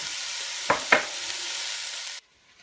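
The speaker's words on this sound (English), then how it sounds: "I'm going to throw those onions in there. And off we go. We'll let those cook down for a while." Onions cooking in a pot for beef and vegetable soup give a steady broadband sizzle, broken by two short clattering stirs partway through, before the sound cuts off abruptly near the end.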